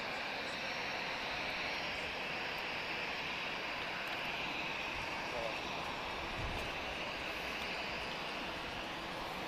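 First-generation EasyJet Airbus A320-214 jet with sharklets at Lisbon Airport, a constant broadband engine roar at moderate distance with no clear change through the span.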